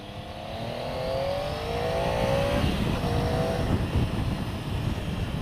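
A Triumph Tiger motorcycle engine pulls steadily through its rev range in a fairly high gear, its pitch climbing over a constant loud drone with rushing wind noise and no talk.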